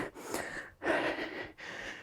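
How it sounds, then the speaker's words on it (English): Heavy breathing after a skipping rope HIIT workout: three long, loud, close breaths drawn in and pushed out in a slow rhythm. "Breathing in through the nose, out through the mouth."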